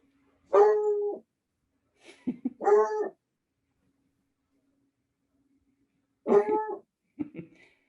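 Dog barking indoors in a quiet room: three short clusters of barks and yelps, fairly close and clear, separated by long silent gaps.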